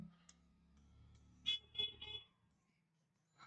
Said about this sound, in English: Somebody is honking right outside.